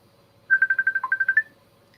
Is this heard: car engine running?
no